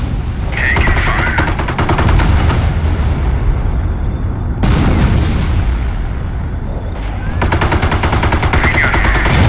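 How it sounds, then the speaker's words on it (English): Dense battle gunfire from the World War II strategy game Company of Heroes, loud and continuous with machine-gun bursts, rifle shots and distant booms layered together, no talking heard. "Taking fire."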